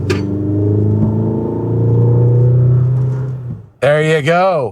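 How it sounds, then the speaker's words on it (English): A 2025 GMC Canyon Denali pickup's engine drones steadily as it drives, a low, full rumble that fades out before a person speaks briefly. "You do hear the engine noise."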